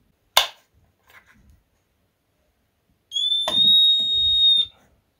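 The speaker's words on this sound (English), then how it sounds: "Beeps as it detects the screws." A handheld stud detector scans a wall for screws in timber: a sharp click, a few faint taps, then after a pause one loud, sustained electronic beep lasting about a second, heard close up.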